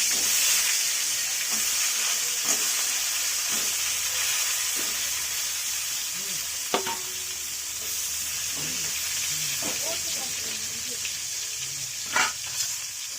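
Pointed gourd frying in a pan in a home kitchen: a continuous, even sizzle of hot oil, with a few scattered clinks and light stirring knocks over it.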